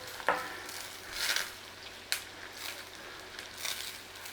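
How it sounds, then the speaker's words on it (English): Faint sizzling in a pan with a few soft stirring scrapes, quiet and close, no voices. "we're going in there with our garlic. Nice little sizzle on there"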